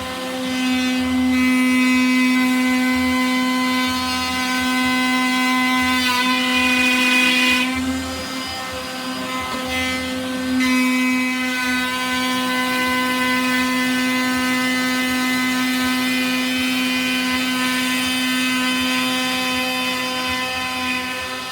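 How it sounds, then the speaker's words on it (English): Loud electric router cutting a concentric circle to trim scrap off a wooden trash can lid, a sustained high-pitched whine with harmonics, dipping briefly as the bit eases off and bites again. "route another circle concentrically around the groove and basically cut all this scrap off"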